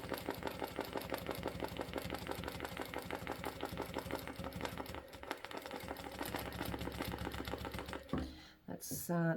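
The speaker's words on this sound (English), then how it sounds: "That noise is me missing stitches," A sewing machine runs steadily during ruler quilting as fabric and ruler move together, with a fast rattling stitch rhythm that skips stitches and cuts off abruptly near the end with some clatter.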